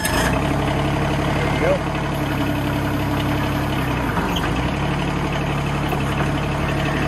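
A Bobcat MT100 mini skid steer engine running at a steady, close, loud idle throughout, with a brief spoken remark near the start.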